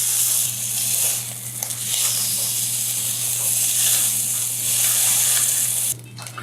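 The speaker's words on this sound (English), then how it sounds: "This is searing up very nice now that I'm not trying to incinerate it." Pork loin sears in a hot pan with a steady, loud sizzling hiss that holds for several seconds before cutting off abruptly near the end.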